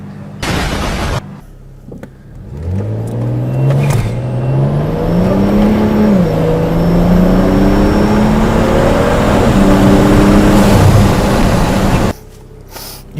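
A BMW 335i engine running on E85 fuel fires up and settles into a steady, loud run, its droning note climbing as the revs rise and then holding even before cutting off.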